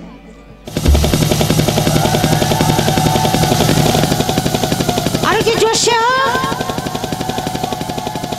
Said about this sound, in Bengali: সবাই মিলে উলুধ্বনি দেন